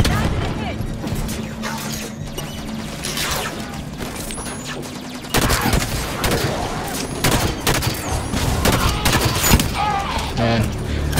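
SMG gunfire in Halo 5: Guardians during close-quarters combat against Covenant forces, with rapid bursts that come thicker and louder in the second half, along with shattering impacts and someone talking over the action.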